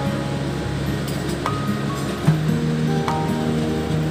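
Mustard oil poured into a hot kadhai on a gas stove while cooking a spicy small fish curry gives a steady, soft broadband hiss that runs evenly throughout, with faint tonal hums underneath.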